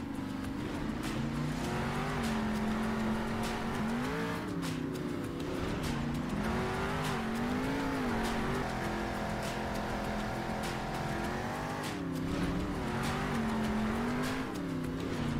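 Monster truck engine in Monster Jam Steel Titans drones and revs continuously, pitch rising and falling with throttle changes, loud and close with occasional tire noise, no talk.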